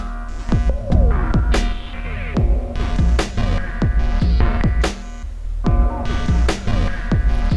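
Looped synthesizer mod pattern in the MobMuPlat SuperLooper app, rhythmic plucky pulses repeating over a steady low drone, layered with other loops, loud and close with no voices.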